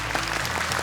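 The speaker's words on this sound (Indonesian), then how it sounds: "Tepuk tangan sekali lagi untuk mamanya Miftah." An audience on an Indonesian Quran-memorization TV competition stage claps for a contestant's mother. It is a brief, dense burst of applause.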